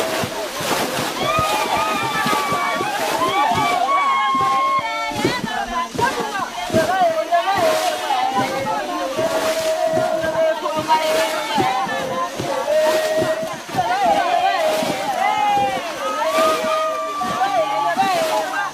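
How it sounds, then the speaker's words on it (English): Women bail water from a dammed stretch of river in the Losi forest, producing repeated sloshes and splashes at close range, with a voice narrating over the watery activity. "building dams and bailing a portion of the river dry"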